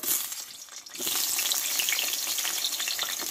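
Eggplant pieces fry in white oil in a wok, a bright steady sizzle that starts softer, then swells into a loud, continuous crackle with faint stirring, with no voices.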